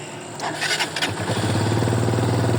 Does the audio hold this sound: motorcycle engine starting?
yes